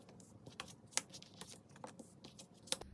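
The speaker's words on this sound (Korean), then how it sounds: "카드 뽑아보도록 할게요." Tarot cards are drawn and handled during a reading, giving a string of crisp, scattered clicks and snaps, two sharper than the rest, against a quiet background.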